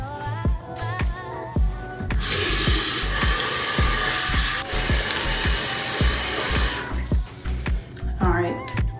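Water runs in a steady broadband rush from a tap while a face is rinsed, lasting several seconds in the middle, with speech before and after.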